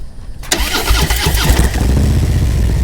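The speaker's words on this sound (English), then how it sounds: "let's start the bike up right now" A motorcycle engine cranks and fires after a brief quiet moment, then settles into a loud, rough, throbbing idle right up close, with no talking over it.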